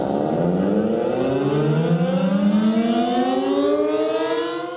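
A civil defense siren wails loud and steady, its rising tone climbing continuously with stacked harmonics before tapering slightly at the end, heard alone.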